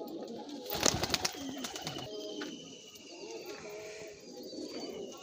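Near, low rolling coos come from an old-line Gola bloodline pigeon, opening with a brief burst of sharp clatter like flapping wings, then continuing quietly.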